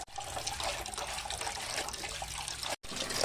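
Tap water runs steadily into a sink while sweet potato tops are washed, a close, continuous splashing rush broken by one brief gap near the end.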